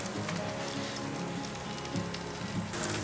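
Onions sweating in a Stargazer cast iron skillet set at the edge of an open fire, a steady close sizzle and crackle of frying with no voices.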